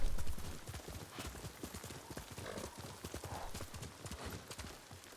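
Horse hoofbeats galloping in the video game Ghost of Tsushima, a steady fast clip-clop rhythm at moderate level with a faint whinny.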